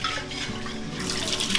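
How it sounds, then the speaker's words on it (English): Water runs into a mason jar to rinse broccoli sprouts, a close continuous splashing pour that grows slightly brighter as the jar fills, with no talking. "we're just gonna fill it again and rinse them one more time"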